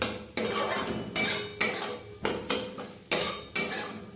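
Spicy semolina being stirred and fried in a pan, heard as a series of sharp, close scrapes and knocks of a utensil against the metal, roughly one every half second, with no voices.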